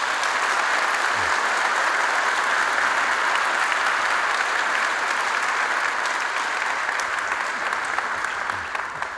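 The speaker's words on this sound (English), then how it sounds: "Yeah, you definitely may applaud that." Dense, sustained applause from an audience after a keynote address at an energy conference, even and continuous across the whole stretch with a slight fade at the close.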